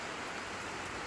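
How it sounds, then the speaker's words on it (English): Heavy rain pours steadily on a Saturday morning, a dense unbroken hiss of drops on surfaces with no voices. "it's raining heavy"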